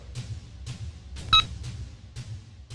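A phone number being dialed, with a series of evenly spaced soft key clicks and one brief electronic tone partway through, quiet and close.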